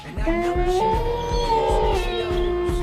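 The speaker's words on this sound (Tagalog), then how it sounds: "Yan na naman yung alulong ng aso." A dog howls loudly and close in long, wavering tones that rise and hold, with thumping low knocks in the background and no talk over it.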